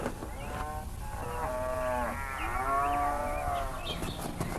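A single long, wavering moo from a cow in Vrindavan, fairly close and clear over soft outdoor background noise.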